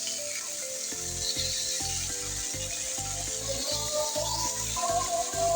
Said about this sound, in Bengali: এখন আমি উল্টেই আরেক সাইড ভেজে নেব।